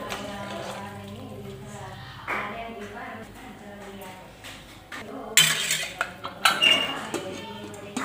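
A spoon scrapes and clinks against a pot as khichdi with squeezed lemon is stirred, with scattered metallic knocks and louder clatter toward the end, under a person talking.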